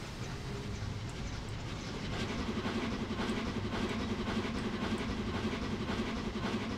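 Flying Scotsman steam locomotive in Train Simulator 2021 braking on the Fife Circle Line, a steady rumbling rail noise with rhythmic wheel clatter and a low hum, continuous and moderately loud throughout with no voices.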